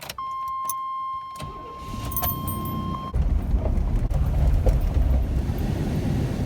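A 1988-1995 GMC/Chevy C/K pickup with a newly installed fuel pump and fuel filter pulls away on a test drive, a brief electronic tone first, then the engine rumble swelling and holding steady with wind noise.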